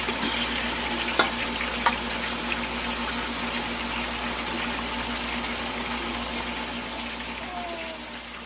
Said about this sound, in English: So I'm gonna start frying the chicken.